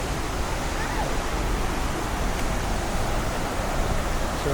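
Waterfall in Brecon Beacons National Park, a steady broadband roar of falling water, dense and close with no breaks, no voices over it.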